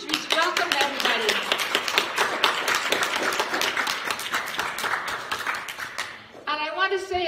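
A church congregation claps together in a steady, close burst of rhythmic hand claps lasting several seconds, fading out as a voice begins speaking at the end.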